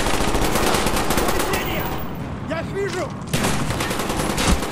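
Dense gunfire and explosive bursts from a grenade launcher in the Call of Duty Black Ops campaign mission The Rusalka, loud and nearly continuous with a brief lull midway before the barrage resumes.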